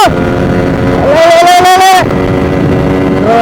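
A Suzuki Samurai motorcycle engine drones loudly while riding, its pitch climbing and holding before easing back, with steady wind rush over the microphone throughout.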